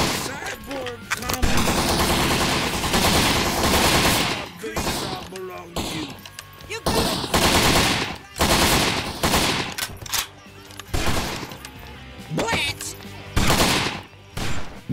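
Rapid machine gun bursts from the video game Postal III crackle in loud, dense volleys, broken by short pauses, with other game sounds and a voice mixed in.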